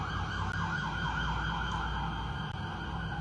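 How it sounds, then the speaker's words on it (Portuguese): An ambulance siren wails steadily in a repeating up-and-down pattern as the vehicle passes, loud and continuous over low road rumble, with no voices. "deixa a ambulância passar"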